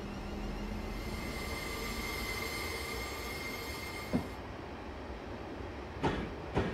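In Train Simulator 2017, a train runs along the rails of the Portsmouth Direct Line with a steady rolling rumble and faint whining tones, then a few sharp clicks and thumps near the end; no one speaks.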